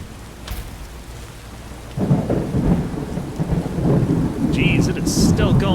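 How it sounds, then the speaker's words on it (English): Heavy rain pours steadily in the video game Skyrim while deep thunder rumbles and swells, joined near the end by a few brief high-pitched sounds. "It's still raining like crazy out there"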